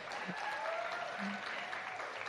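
A gala audience applauds steadily at a moderate, fairly distant level, with faint voices and a few tonal sounds mixed into the clapping.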